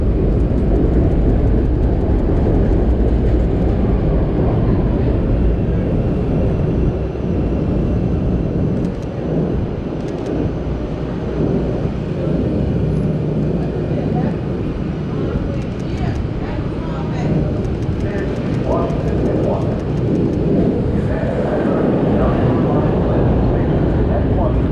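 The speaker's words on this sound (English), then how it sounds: "Train coming." A train rumbles past continuously and loudly on a city street during a blizzard, a dense, steady roar lasting the whole stretch with faint voices beneath it.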